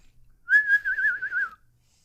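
A single clear, high-pitched whistled note held for about a second, with a quick warbling vibrato toward the end, loud and close against near silence.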